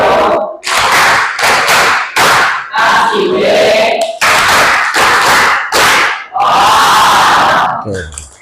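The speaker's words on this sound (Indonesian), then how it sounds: "Berikan tepuk wow untuk teman kita." A classroom group performs the 'tepuk wow' clapping chant, loud rhythmic bursts of claps and shouted voices in repeated beats, ending in a drawn-out group call.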